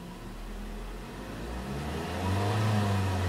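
2011 Ford Focus SE engine revs up from a steady idle hum, rising to a louder, higher drone near the end of the short clip.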